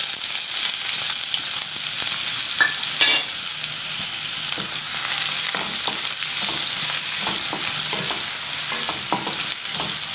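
Finely chopped large onions sizzling in hot oil with popped mustard seeds, a steady loud frying hiss with occasional stirring scrapes and small crackles, no talking.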